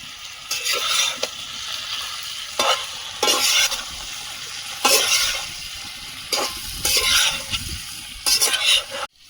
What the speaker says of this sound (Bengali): এবার আলুটা দিয়ে আর একটুখানি নেড়ে চেড়ে জল দিয়ে দেবো